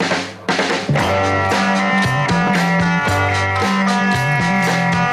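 The 1966 song opens with drums and electric guitars, then settles into a steady groove with a bouncing bass line.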